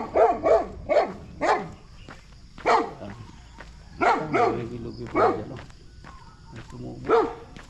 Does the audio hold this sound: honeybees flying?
no